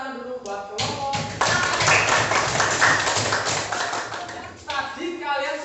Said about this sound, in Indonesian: Kita beri tepuk tangan dulu buat kelompok.